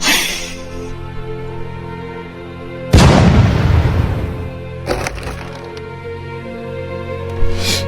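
A danger-close artillery strike lands with one heavy, loud boom that rolls out into a long decaying rumble, followed by a smaller second blast and a faint later thump, with no voices over it.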